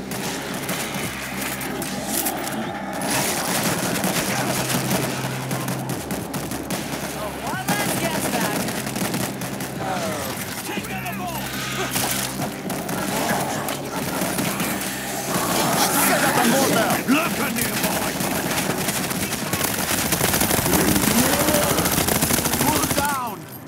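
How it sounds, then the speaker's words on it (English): Dense automatic gunfire from a deployed machine gun turret in the zombie shooter World War Z: Aftermath, rattling continuously for the full span amid other game noise and loud action, with occasional voices. "Machine gun is set."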